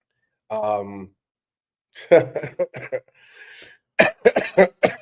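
A single short harsh cough, close up, followed by throat-clearing bursts and some brief vocal sounds.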